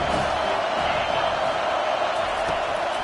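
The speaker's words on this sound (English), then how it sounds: "Decibels rising as the crowd gets behind this defense on third down." A packed college football stadium crowd roars in support of the defense on third down, a loud, steady wash of cheering and shouting that fills the space without pause.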